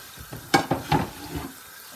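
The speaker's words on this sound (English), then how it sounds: "The tomato need to be fried." Tomatoes frying in hot oil for jollof rice, a few sharp sizzling bursts as the pan is stirred, close and loud, fading to a low crackle.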